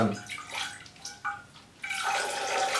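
Orchid roots of a Miltoniopsis being dunked in a container of water, soft sloshing splashes and trickling in a few separate bursts, close by and fairly quiet.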